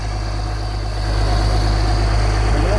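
Custom truck engine with a single turbo idling close up, a loud, steady low rumble and throb that swells slightly after the first second.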